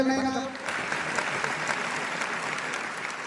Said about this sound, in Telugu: భక్త మాషాలు గట్టిగా చప్పట్లు కొట్టాలి నాయనా.